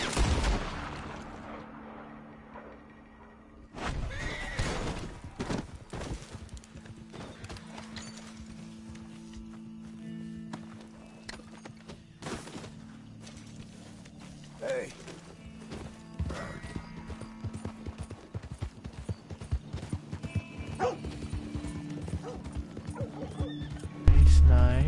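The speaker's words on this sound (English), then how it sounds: "I see we got horses" Horses in the Red Dead Redemption 2 game clip-clop with hooves and neigh among game sounds and scattered sharp bangs, a long stretch of irregular hoof beats and whinnies at moderate loudness.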